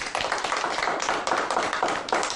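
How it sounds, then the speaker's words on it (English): A small group of young children clap their hands in a classroom, a run of quick, fairly close claps in an uneven rhythm, with no talking over them. "Oh, you have to clap hands."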